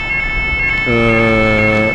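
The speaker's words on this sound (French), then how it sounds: "on a déclenché l'alarme des locaux" Building fire alarm set off during a Vélizy-Villacoublay firefighter drill simulating a ground-floor workshop fire, a loud steady electronic tone that shifts partway through into a stronger layered, buzzing alarm note, sounding continuously and close.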